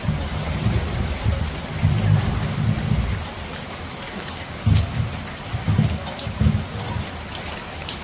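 Steady monsoon rain pours down, hissing continuously, with several deep rolls of thunder swelling in and out underneath.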